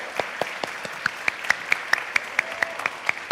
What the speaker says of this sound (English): now let's give her a warm round of applause